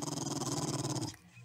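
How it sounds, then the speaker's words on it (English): A rabid dog in a video game snarls in a rapid, pulsing growl for about a second before it stops abruptly. "Oh, that's a rabid dog."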